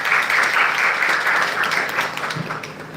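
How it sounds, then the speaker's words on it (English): An audience at a lecture and discussion on India's foreign policy breaks into steady applause, a brief moderate wash of clapping that softens slightly toward the end. "a big round of applause is due to Discourse team"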